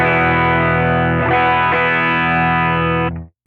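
Electric guitar run through a Benson Monarch tone match patch on a Line 6 Helix: a sustained, driven chord rings loudly, is restruck a couple of times, then is abruptly cut off to silence.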